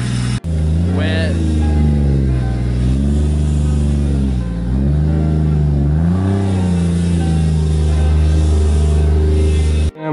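A Lexus IS300 car engine fires up and revs close by, its note rising and falling in several loud swells before settling, with a click at the start and end.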